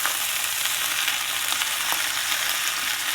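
Seasoned sliced sausage and potatoes sizzle and fry steadily in a pan while being stirred, giving a continuous bright crackle with soft scraping from the mixing, close and alone with no talk.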